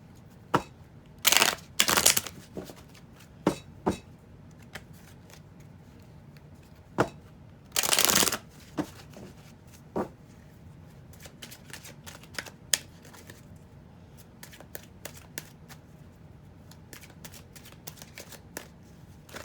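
Tarot cards being shuffled and drawn, with a few loud riffling bursts of the deck and scattered crisp snaps and taps of single cards being laid down, close up and otherwise quiet.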